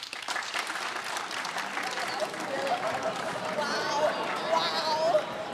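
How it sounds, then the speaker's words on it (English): A freshman class of students in a hall gives a sustained round of clapping, dense and steady with crowd noise and some voices mixed in, swelling slightly toward the end. "let's hear a loud round of applause"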